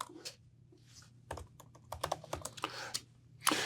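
A short command typed on a computer keyboard, a quick irregular run of close, light key clicks ending in a firmer keystroke, with no talking.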